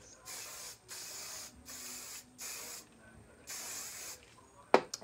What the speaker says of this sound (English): even if it gets frizzy, you can hairspray.